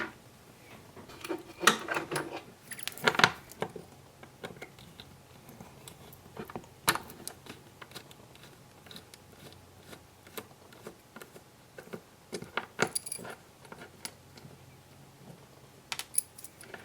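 A screwdriver undoes small screws on an OO gauge Class 52 Western model locomotive, giving faint, sparse ticks and clicks at a quiet workbench.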